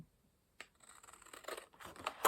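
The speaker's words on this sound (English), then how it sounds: "with my big scissors, cut up" Big scissors cutting through patterned paper: a soft run of quick, crisp snips and rustles, close and fairly quiet, building to a sharper final cut.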